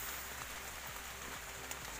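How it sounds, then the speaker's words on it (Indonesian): Rain falls in a forest as a steady, soft hiss with a few scattered louder drips on nearby surfaces, and no voices. "Hujan."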